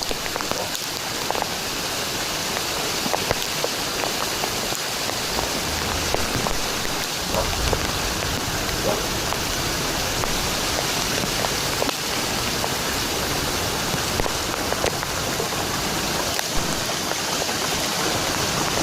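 Heavy rain pours down alongside a strong rush of flowing water, a loud, dense, unbroken wash that holds steady throughout with no voices.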